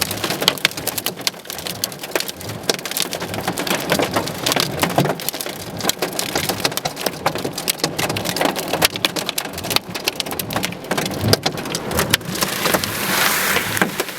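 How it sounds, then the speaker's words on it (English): Giant hail from a supercell storm in Dural, Sydney pelts surfaces in a dense, continuous clatter of sharp impacts, loud and close throughout with no voices. "Biggest hail I've seen in a long time in Sydney."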